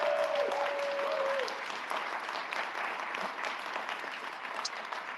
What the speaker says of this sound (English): Please give a round of applause for Chiara.